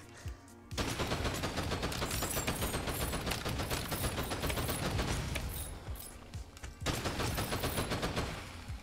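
Rapid automatic gunfire from the video game Pepper Grinder, a loud continuous barrage lasting several seconds with a short lull before the shooting resumes, and no voices.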